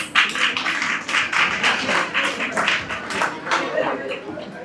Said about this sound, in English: Let's appreciate them with a warm round of applause.